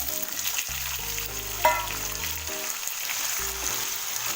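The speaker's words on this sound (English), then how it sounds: "Give it a mix and we'll fry it for 2 to 3 minutes." Potatoes frying with onions in a pan for aloo matar, a steady close sizzle broken by a few scrapes and clinks of stirring, with a faint tonal hum running underneath.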